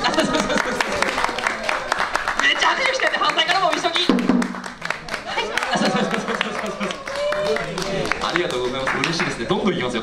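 A crowd applauds during a street monkey-performance show at a roadside station, clapping steadily and fairly close while the performer keeps talking animatedly over the applause, with a brief dip midway.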